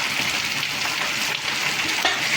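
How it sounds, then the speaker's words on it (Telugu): Drumstick (moringa) leaves frying in a pan for a stone-ground chutney, giving a steady, close crackling sizzle with no talk. "కడిగి శుభ్రం చేసుకుని మునగాకు ఇది కూడా ఫ్రై చేసుకోవాలి,"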